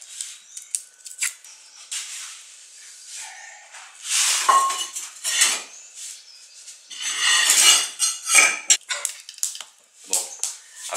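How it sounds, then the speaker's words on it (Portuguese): A knife scraping and nicking at garlic cloves being peeled for seasoning, with irregular crisp, scratchy strokes and small clicks close by, coming in uneven bursts with short pauses between. "Vamos descascar um pouco de alho"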